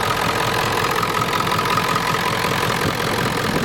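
A Ford F-250 with the 7.3 IDI diesel, running hot with a suspected stuck thermostat, idles at close range in a steady, loud diesel clatter, unbroken and with no talk over it.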